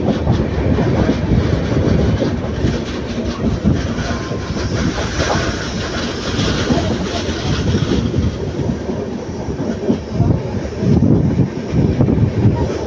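A train on the Erode to Bangalore route gives a loud, steady rumble and roar, with rattling wheel and carriage noise throughout and no talk.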